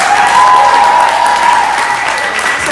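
Audience clapping at a live cover performance, a steady dense round of applause that starts loud and slowly eases off, with a faint sustained tone riding above it.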